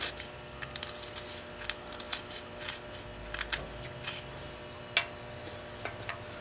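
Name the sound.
carving tool cutting the bottom off a box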